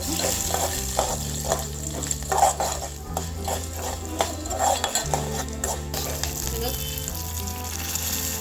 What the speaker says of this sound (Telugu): శనగపప్పు మినపప్పు ఇప్పుడు వేసి కలుపుకుందాం